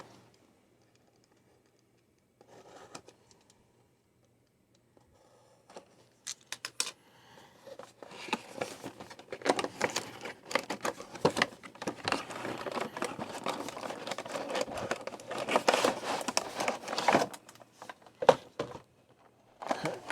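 Tape being cut and plastic blister packaging of a Masters of the Universe Masterverse action figure being opened: sparse snips at first, then dense, close crinkling and crackling of plastic that builds and continues.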